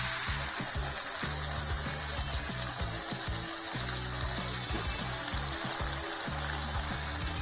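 Chicken pieces sizzle and fry in a pan, cooking in their own juices without added water, for khada masala chicken gravy; a close, steady, loud crackle with light stirring and no talk.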